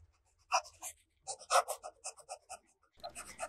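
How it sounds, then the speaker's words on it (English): A fine-nib fountain pen scratches across the paper of a Field Notes reporter's notebook in short, separate strokes, soft and very close, with pauses between them and no voices. "The next writing sample is done in a Field Notes reporter's notebook."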